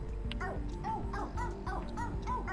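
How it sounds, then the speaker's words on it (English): Cartoonish dog barks and yips from the video game Phogs come in a quick series of short repeated calls over a low background hum, fairly quiet overall. "Jump up by barking."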